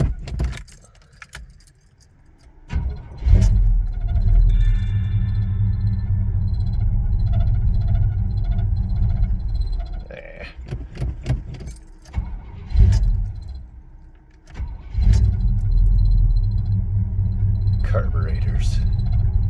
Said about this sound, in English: we'll get her all fired up and let her warm up a little bit and then go take her for a drive